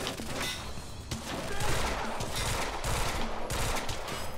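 Rapid gunfire in Quantum Break, dense bursts of shots crackling continuously over a roaring, noisy backdrop, loud and close.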